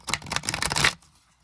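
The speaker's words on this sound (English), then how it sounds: "Very good, so I'm going to shuffle them." Tarot cards are shuffled in a quick run of crisp riffling flutters lasting just under a second, close and fairly loud, then cut off into near silence.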